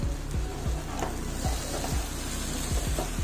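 Potato and capsicum masala fries in a pan, a steady dense sizzle with repeated scraping strokes of a spoon stirring roughly every half second, close and continuous with no talking.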